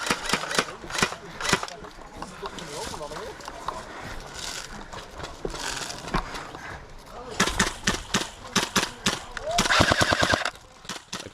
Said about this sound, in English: I probably don't have the range with this LMG to take him out, but you know, I decided to sling a few shots high.